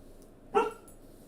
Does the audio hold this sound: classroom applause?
no